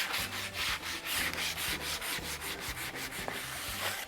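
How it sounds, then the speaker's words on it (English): Sandpaper rubbing back and forth over a freshly cut piece of timber for a peg hat rack, steady rhythmic strokes about three per second, close but fairly soft. "I'm going to give it a little bit of a sand because I like to do that before I start anything"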